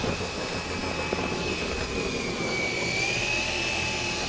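A drill-driven mixer spins through gypcrete, blending gypsum powder and water, making a steady, loud whirring drone with a high motor whine that holds without a break.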